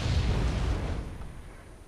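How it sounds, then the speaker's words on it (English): Artillery fire in the real-time strategy game Wargame: European Escalation, a single loud boom with a rumbling low tail that fades away over about two seconds. "I'm going to redirect my artillery fire"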